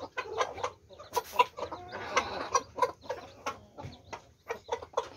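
A mother hen clucks repeatedly in short bursts to her chicks, teaching them to pick food off the ground, close by, with soft peeps and scratching between calls.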